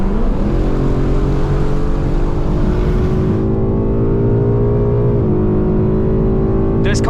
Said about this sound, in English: This car is so fucking fast.